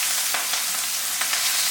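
Chopped onions, ginger and green chillies sizzle steadily in a hot pan over a low flame, a close, continuous frying hiss with a few soft crackles as tempering begins for a Kathiyawadi brinjal dish.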